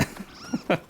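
A cat in the video game Nioh gives a short, close meow-like cry of under a second, with a few brief tonal yowls and small taps.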